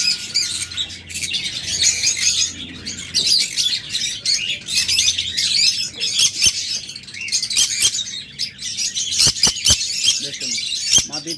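Lovebirds and budgerigars kept in breeding pairs chirp and squawk in dense, overlapping bursts, close and busy, with a few sharp clicks scattered through.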